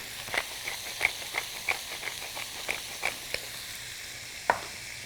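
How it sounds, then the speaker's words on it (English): Garlic sizzles in a pan for a chicken and Italian sausage stew, a soft steady frying hiss broken by a dozen or so sharp spoon-on-pan clicks and scrapes as it is quickly stirred. "Give this a little turn very, very quickly with that garlic in there"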